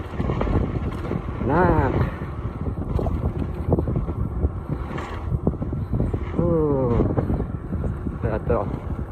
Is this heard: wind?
yes